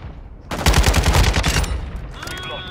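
Call of Duty Modern Warfare 2 Ground War gunfire: a sudden loud burst of rapid automatic shots lasting about a second, then fading into quieter game noise.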